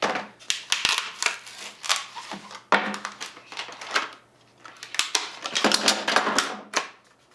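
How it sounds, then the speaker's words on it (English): A knife with a Kydex sheath slices through a plastic package, giving a run of crisp, close tearing and cutting snaps in uneven bursts separated by short pauses. "We're going to use it to cut this thing open."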